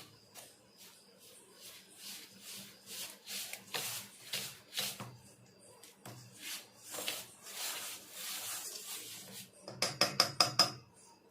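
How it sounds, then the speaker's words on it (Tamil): A spoon scrapes and stirs cake batter with oil in a bowl for a homemade sponge cake, in rhythmic close strokes of uneven loudness. It ends in a quick run of sharp beating taps against the bowl. "ஆயில் அரை கப்பு சேர்த்திக்கலாம் இதெல்லாம் நல்லா கலந்து விட்டுறலாம்"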